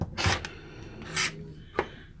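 Rotary cutter trimming the sides of a quilt fabric block to 2 7/8 inches for a star table runner, heard as three short raspy slicing strokes, close and fairly quiet, with no talk.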